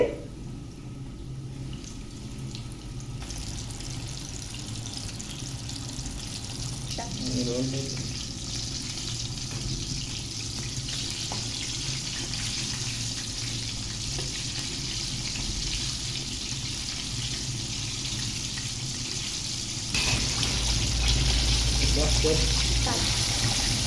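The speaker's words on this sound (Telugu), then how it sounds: "డీప్ ఫ్రైకి సరిపడా ఆయిల్ వేసుకొని ఇప్పుడు ఈ ఆయిల్లో మనమైతే ముందుగా రెడీ చేసుకున్న ఈ లెగ్ పీసులను అయితే వేసుకోవాలండి" Chicken leg pieces deep frying in plenty of oil, giving a continuous dense bubbling sizzle that stays steady throughout, with a brief clink of utensils now and then.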